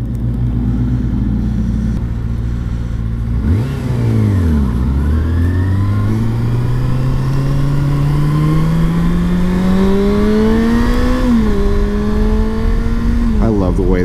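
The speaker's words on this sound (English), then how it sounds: "I love the way this engine sounds at high RPMs." A Kawasaki Ninja ZX-6R motorcycle engine revs hard and climbs through high RPM in long rising sweeps with shifts between them, loud and close throughout, with a voice talking over part of it.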